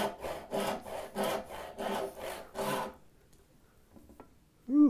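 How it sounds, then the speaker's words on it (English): A hand saw cuts wood for a half lap joint, with about six steady, close push strokes in an even rhythm. The strokes stop partway through, leaving quiet before a brief noise at the end. "I'm going to set the saw over, and I'm going to cut that right down."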